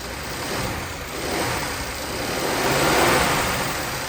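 A car engine idles and revs steadily after being started, a continuous mid-pitched rumble that swells slightly as it runs, with no talk over it.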